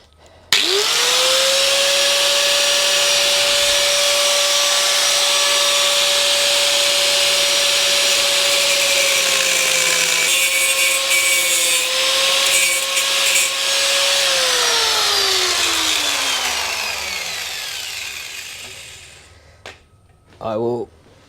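A power tool cuts a bracket off a Suzuki VL250 motorcycle frame during a bobber build. A loud, steady, high motor whine runs continuously, shifts slightly, then winds down, with a couple of brief knocks at the end.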